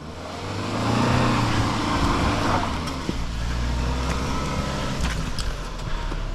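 A Suzuki Jimny works off-road, its engine droning and swelling close by as it crawls over rough ground, with occasional knocks, bumps and faint voices in the background.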